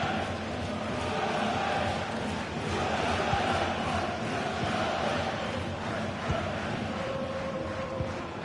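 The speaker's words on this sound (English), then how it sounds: "The crowd encouraging him to take it on." Steady roar of a football video game crowd cheering a Wigan Athletic attack, loud and continuous with surging swells throughout and no break.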